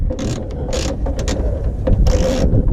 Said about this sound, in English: We'll put that bolt in my pocket, and then we're going to do the other bolt